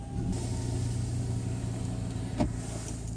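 A car hums steadily at low revs while being driven and parked on a street, its engine drone continuous from inside the cabin with one brief click or thump near the end.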